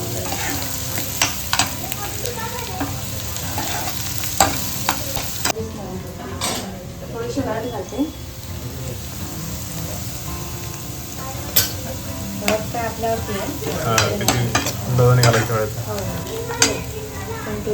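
Tempering for kantoli (spiny gourd) bhaji sizzling steadily in a pan at close range, with stirring scrapes and clinks, while a voice talks over it.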